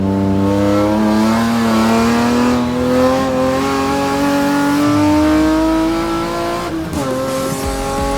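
A BMW M race car drives into a chicane, its engine loud and close with a rising drone, then a sharp downshift and brake drop before it pulls away again.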